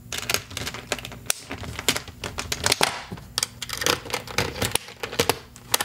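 A key works the locks on two guitar cases, producing a run of sharp, irregular metallic clicks, snaps and rattles close up, with no talking.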